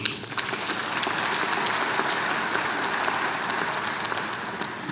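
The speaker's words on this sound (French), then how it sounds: "Je voudrais que nous puissions les applaudir." Broad, sustained applause from a large audience, a dense even wash of clapping that holds steady throughout.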